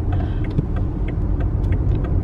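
A car drives along an ordinary road, heard from inside the cabin as a loud, steady low rumble of engine and tyre noise, with light rattles and clicks scattered on top and no talking.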